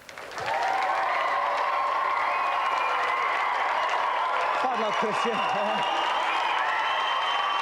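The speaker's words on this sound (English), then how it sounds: "Round of applause for Kristian" Applause and some cheering from a studio audience on a British video-game TV show after a contestant's challenge ends, sustained and fairly loud while someone speaks over it.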